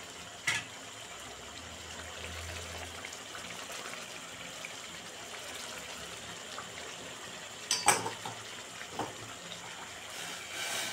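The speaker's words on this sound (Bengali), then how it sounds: "হয়ে গেছে তো জলটা, এবার আমি ঢেলে দেবো।" Hot water is poured from a pan held by hand into chicken kosha cooking in oil, a faint, steady watery rush with a few small clinks and splashes near the end.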